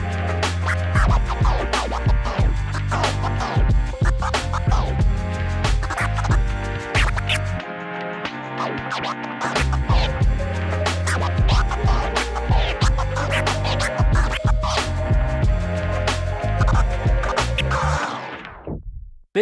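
Continuous turntable scratching over a thumping beat, rapid back-and-forth record cuts loud and close, ending in an abrupt fade.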